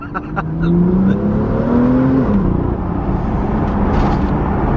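A BMW N55 engine revs up close and loud, its tone climbing smoothly and then dropping back under a steady, rumbling hum.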